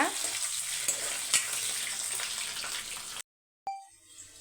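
Cut potato and other ingredients sautéing in a hot pan, a continuous close sizzle with stirring scrapes, then a short silence and a sharp clink followed by quieter sizzling.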